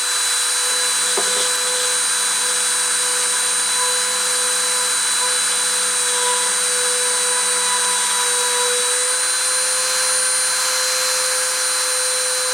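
A machine spindle running steadily under power, a loud continuous whine with strong tonal hum that holds unchanged for the whole stretch.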